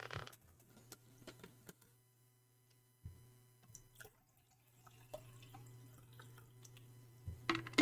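Water being poured to refill a drinking glass, soft trickles and small drips close by and faint, with quiet clinks and a low background hum.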